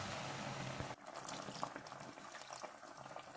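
Sugar syrup thinned with water simmers in a pan on a gas stove, set a little below medium, while making Bengali cham cham sweets. A steady, close bubbling hiss runs throughout, with faint clinks from the pan.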